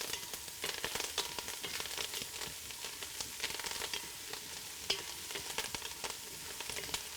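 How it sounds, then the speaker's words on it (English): Mushrooms with thyme frying in a pan give a faint, crackly sizzle while a utensil stirs them, with soft irregular scrapes and pops close by and no voices. "Now I'm going to stir my mushrooms with their thyme."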